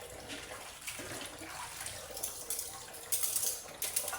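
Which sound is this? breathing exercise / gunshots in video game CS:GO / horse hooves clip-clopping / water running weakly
water running weakly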